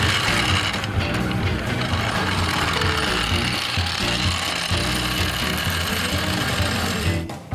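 Car jack being worked at a racetrack pit during a 24 Hours of LeMons race, a steady mechanical ratcheting churn running loud and continuous close by, with no talk over it.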